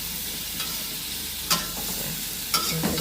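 Steady sizzling of white cabbage stir-frying in a wok, with a few sharp scraping stirs of a utensil against the wok.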